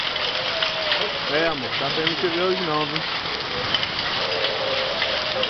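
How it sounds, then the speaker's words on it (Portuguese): Hailstones fall in Ribeirão das Neves as a dense steady hiss of ice pattering on surfaces and a car, continuing under a voice and other nearby speech. "Olha o tamanho das pedras de gelo."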